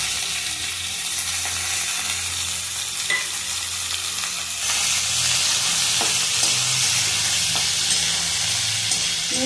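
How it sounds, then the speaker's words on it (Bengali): Vegetables and spices for paneer masala sizzle and fry steadily in hot oil without salt, with occasional stirring scrapes in a pan. "এগুলো সমস্ত কিছু একসাথে দিয়ে আমি ভেজে নেব।"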